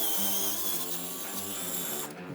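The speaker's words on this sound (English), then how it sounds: "So now we're going to unscrew this one." A 13mm hex bolt on a Polaris Ranger XD1500 underseat storage box is unscrewed with a power tool, giving a loud, continuous whirring buzz close by that cuts off abruptly near the end.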